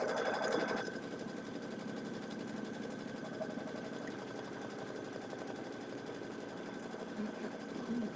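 An embroidery sewing machine stitches a tea towel with a steady, fast mechanical whir and rapid needle chatter that runs unbroken and close, with no voices.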